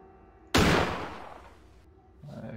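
One loud, booming gunshot rings out in Granny and decays slowly, followed moments later by a softer second report.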